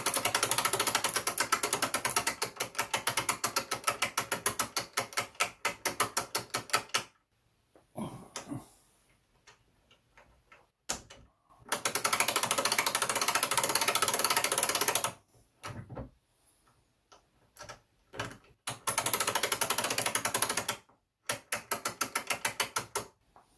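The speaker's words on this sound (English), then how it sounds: "I'm winding and loosening it a couple times to distribute the oil." Alarm clock mainsprings are wound and loosened by hand, giving rapid dense bursts of ratchet clicking in several long runs separated by quiet pauses, close and crisp.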